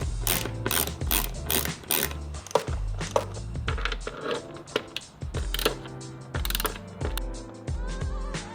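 A 10mm ratchet works bolts loose from a Sur Ron electric bike seat, giving repeated close, crisp clicking pawl bursts in quick back-and-forth strokes, with brief pauses between runs and no talking.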